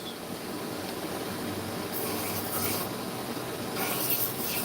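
A knife blade rubs steadily against a 600 grit Trizac A30 abrasive during a sharpening refinement step, a continuous close gritty scraping with slight swells, and no talking.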